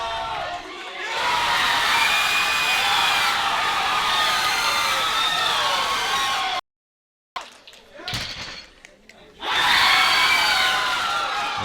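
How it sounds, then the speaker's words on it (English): A crowd at a high school powerlifting nationals roars and cheers loudly and continuously for a lifter, breaks off abruptly, returns in scattered shouts, then swells back to a full roar. "you can hear the crowd behind him. They're right in his face"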